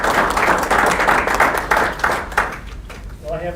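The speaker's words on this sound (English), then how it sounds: "So give your company an applause." Audience clapping at a company customer-day gathering, a loud dense round of applause that thins out and fades toward the end as a voice starts to come through.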